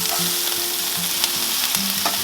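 Kale stems sizzle steadily in a hot pan, a loud, close frying hiss with occasional light stirring scrapes and no voices.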